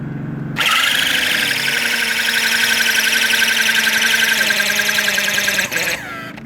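Corded Milwaukee drill with a half-inch Jacobs chuck and two-speed transmission, motor sparking, spinning up to a loud steady whining drone for about five seconds before winding down.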